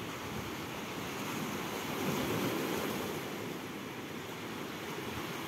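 Steady roar of Black Sea waves washing in at Novomikhaylovsky, Tuapse district, broad and continuous, swelling slightly midway, with no voices.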